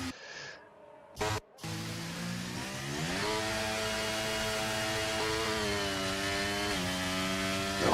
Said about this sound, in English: it just sounds like they're completely over revving the car.